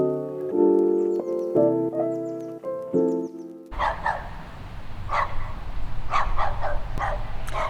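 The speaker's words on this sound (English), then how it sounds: "this dog will not stop barking" Dog barks sound outdoors in the second half, several sharp mid-distance yaps over background noise, after a stretch of plucked music with no barking.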